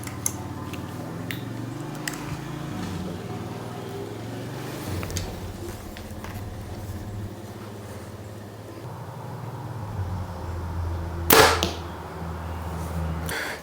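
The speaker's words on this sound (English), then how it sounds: "me shooting it inside will help you guys see how quiet this bow is for a carbon bow" A Hoyt RX-8 carbon compound bow fires indoors with a single sharp snap and thud, fairly quiet overall, against a low background hum and faint handling noises.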